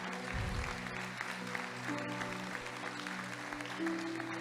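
A church congregation applauds during a worship service. The clapping is steady and moderately distant under a sustained hum of tones, and voices are faint in the background.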